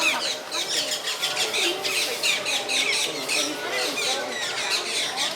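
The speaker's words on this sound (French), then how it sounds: "On est au milieu des oiseaux." Many birds squawk and chatter all around inside a zoo aviary at an animal park in Florida, a dense, continuous chorus of harsh close calls with a voice faintly beneath.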